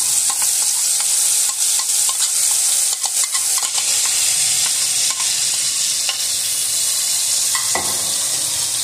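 Fenugreek seeds and masala fry in a pan over low heat for a stuffed white eggplant curry, with a steady close sizzle under repeated scraping stirs of a spoon.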